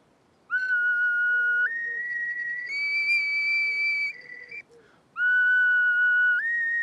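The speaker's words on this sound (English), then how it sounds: "The duct flute certainly produces a clearer sound" A wooden duct flute plays clear, pure whistling notes that step up and down in pitch, held tones with a brief pause near the middle, loud and close with no voices.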